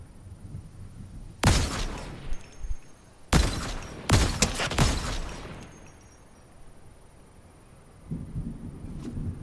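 Gunfire in the battle royale game Fortnite, several loud broadband bursts clustered between about one and six seconds, then quieter low rumble and background game sound.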